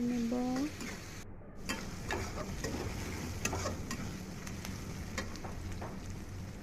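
Onions, green chillies and chopped garlic fry in oil as they are stirred, a steady crackling sizzle with light scraping clicks of a utensil, following a brief voice at the start.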